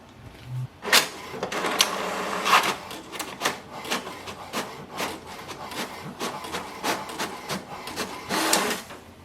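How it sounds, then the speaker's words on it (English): An HP DeskJet 4352 inkjet printer prints an information report. Its printhead carriage makes repeated mechanical clacks and whirring passes in an irregular rhythm, close by and with no talking. "Now we have to print the password of the printer."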